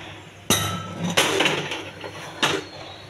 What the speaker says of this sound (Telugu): కుక్కర్ మూత పెట్టుకుని స్టవ్ పైన పెట్టాలండి